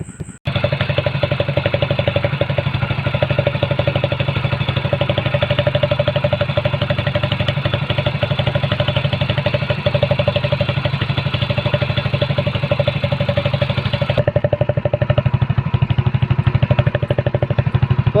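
A Hero Splendor motorcycle fitted with a homemade modified exhaust idles close by in a steady, throbbing drone that holds unbroken for about eighteen seconds. Its bright upper rasp drops away near the end.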